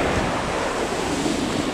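Mediterranean sea waves breaking on a beach in Spain, a steady, loud wash of surf with wind noise across the microphone, continuous throughout with no voices.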